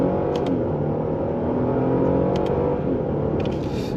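A Genesis G80 Sport pulling away in Sport Plus mode, heard from inside as a steady, loud engine drone and road noise building smoothly with a few faint ticking clicks, no talk.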